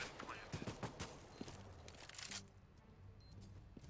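Gunfire in a CS:GO esports match, rounds punched through a wall, sounding as a quick cluster of sharp shots in the first half-second to two seconds before fading into quieter game ambience, with faint commentary underneath.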